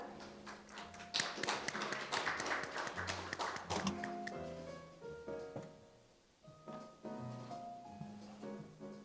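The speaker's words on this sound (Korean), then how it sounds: "박수 부탁드립니다." A forum audience at an opening ceremony claps in scattered, uneven bursts, with clearer individual claps than a full roar, fading and then picking up again, fairly faint and set in a reverberant hall.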